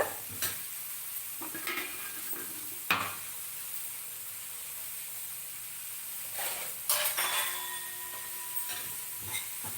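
Coriander seeds and spices are lightly dry-roasted in a pan, giving a quiet, steady hiss broken by occasional scraping stirs and clinks of a utensil. There is no talk.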